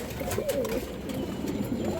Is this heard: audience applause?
no